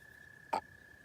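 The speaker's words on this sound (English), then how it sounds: "Those frogs sound so cool out here." A single short frog croak near an outdoor fishing spot, one sharp burst standing out over a thin steady insect-like drone and quiet ambient background.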